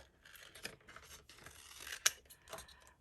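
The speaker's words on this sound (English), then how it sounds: "I'm going to cut out this butterfly" Scissors snip through a sheet of paper while a butterfly shape is fussy-cut for a handmade card, a run of soft rustling cuts with one sharper snip partway through, close and fairly quiet.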